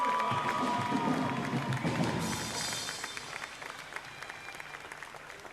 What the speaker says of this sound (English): Let's get a round of applause for senior Jackson Abbott.